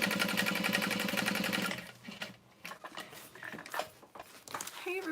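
A sewing machine runs steadily while top stitching the bottom panel of a Divina tote bag, a fast even whir lasting under two seconds before stopping, followed by quieter handling noises and shuffling.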